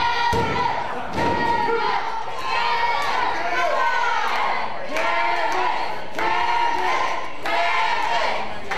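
Wrestling crowd at an IZW independent show, loud and steady through the whole stretch, with repeated heavy ring thuds standing out over the cheering and chatter.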